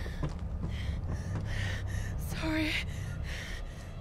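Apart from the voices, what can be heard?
heavy breathing of the character in the Tomb Raider video game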